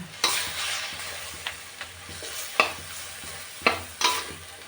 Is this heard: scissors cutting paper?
no